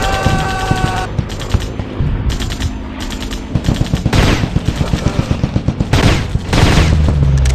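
Rapid automatic gunfire from a shooter video game, dense bursts of machine-gun shots and explosions filling the whole stretch, loud and close with steady rhythmic firing in the second half.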